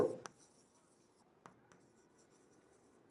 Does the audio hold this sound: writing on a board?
yes